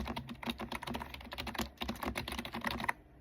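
A clicky computer keyboard being typed on at a steady pace, close and fairly quiet, with rapid crisp key clicks and no voice.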